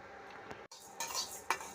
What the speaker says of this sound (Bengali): এখানে চাল ভাজছি